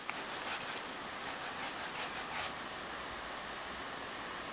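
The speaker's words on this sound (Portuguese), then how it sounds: "Nunca lixar demais, tá?" Steady abrasive rubbing of sandpaper across a car body panel during small dent repair, a continuous close hiss with faint rhythmic strokes early on and no talk.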